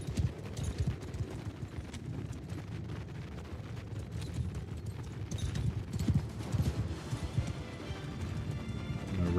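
Rapid, rumbling hoofbeats of a galloping horse in a continuous rhythm, set in a busy, noisy Warhammer game soundscape.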